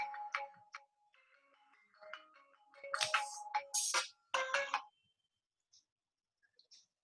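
A mobile phone ringtone goes off during a physics lecture on wave superposition, playing a bright melodic phrase for a few seconds before cutting out, followed by a few faint, scattered notes.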